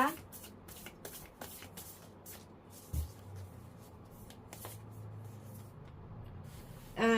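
Oracle cards for a Pisces horoscope tarot reading are shuffled by hand in rapid riffling bursts and soft slaps, close and crisp, with a voice speaking at times.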